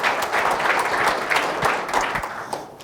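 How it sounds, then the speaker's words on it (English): Audience applause after a water science lecture introduction, a dense, steady wash of many hands clapping throughout, fairly close and loud, with no speech over it. "So let's give a hand of applause to Ty"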